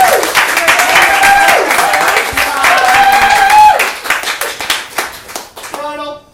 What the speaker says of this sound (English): I'm waiting for the applause.